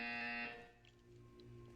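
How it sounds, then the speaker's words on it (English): A buzzer in the video game Portal 2 sounds as a loud, harsh, steady electronic tone for about half a second, then cuts off and leaves quiet room tone. "You will hear a buzzer."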